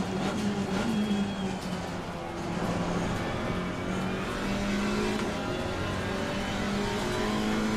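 A GT4 race car engine roars steadily at Mount Panorama in a racing video game, sustained and loud with shifting revs and brief surges throughout, no talking over it.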